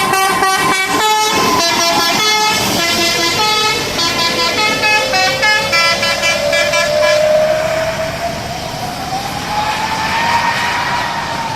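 Bus horns honk loudly and repeatedly as a bus departs the Solo bus terminal in Indonesia, a musical multi-tone horn pattern blaring close over engine rumble, then fading into a rising engine drone as the bus pulls away.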